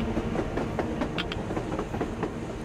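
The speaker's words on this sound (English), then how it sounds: "A damn train on the surface!" A train rolls past on the surface in Metro Exodus with a steady clickety-clack of wheels over rail joints and a dense mechanical rumble, loud and sustained, with no voices.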